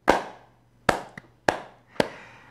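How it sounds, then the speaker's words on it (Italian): Four sharp, separate hand claps from hosts of an Italian football talk show, loud and close in a quiet room, spaced irregularly with one faint smaller clap between the second and third. "speriamo di aver applaudito bene"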